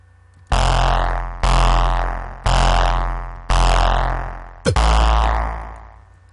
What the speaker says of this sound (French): Ensuite la bassline, donc c'est une basse classique avec un son acide